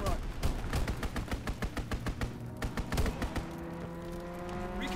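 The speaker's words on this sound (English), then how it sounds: "Fighter aircraft ready. Call for a strafing run." Fighter aircraft strafing run in a war video game: a fast run of gun bursts that gives way to a sustained engine drone, with game voice callouts over the top.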